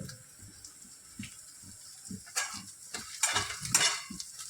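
Green chillies frying in a pan, a quiet sizzle with intermittent scraping stirs that grow louder and splashier toward the end, heard up close with no speech.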